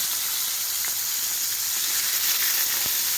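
Rabbit pieces frying in a pot over a medium-low flame give off a steady, bright hissing sizzle with a few faint pops, close and continuous with no voices.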